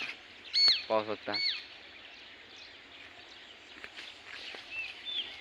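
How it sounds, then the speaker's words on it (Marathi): Morning birds chirping in village farm fields: a few sharp, close calls in quick succession early on, then fainter scattered chirps over a steady outdoor hush, with a person speaking briefly. "म्हणजे पूर्ण पक्ष्याची आवाज, सकाळची चिवचिवाट"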